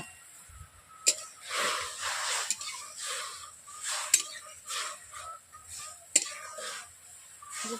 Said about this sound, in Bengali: গুড়টাকে আমি প্রথমে জলের সঙ্গে মিশিয়ে নিচ্ছি।